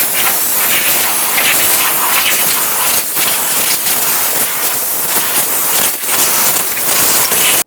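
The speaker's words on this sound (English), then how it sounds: "To clean this, I'm using some compressed air, especially along the area where the intake is." Compressed air blasts debris off the intake area of a 2014-2018 Mazda 3 2.0L four-cylinder engine, a loud, continuous broadband hiss that keeps going almost unbroken, with brief dips in pressure, and no talking.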